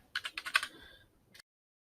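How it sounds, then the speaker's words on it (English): Keystrokes on a computer keyboard as a terminal command for installing Jupyter with pip is typed: a quick run of about six close, crisp taps, then a pause and one final tap, with no talking. "So pip install, and then Jupyter."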